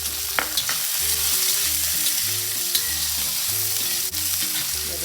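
Green chili and red capsicum frying and being stirred in a pan for a South Indian chutney, a steady close sizzle with rhythmic scraping and stirring strokes and a few small clicks, no voices.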